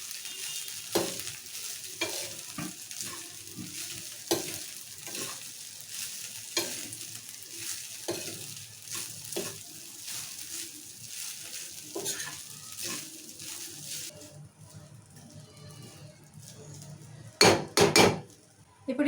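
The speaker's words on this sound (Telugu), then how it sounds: "ఇప్పుడు రైస్ వేసుకుందాం ఇందులోకి. బాగా కలిపేసుకుందాం." Rice being stirred into fried seasonings in a pan for peanut rice: steady, rhythmic spoon scrapes over a soft sizzle, close and fairly quiet, ending with a few sharper clanks against the pan.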